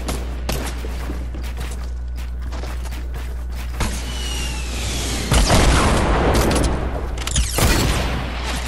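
Gunfire in the Fortnite video game: sharp cracking shots and booming bursts in clusters, some near and loud, mixed with whooshing effects over a low steady hum.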